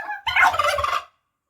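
Several rescued turkeys gobble in a loud, rippling burst lasting about a second, following a brief softer call, then falling silent.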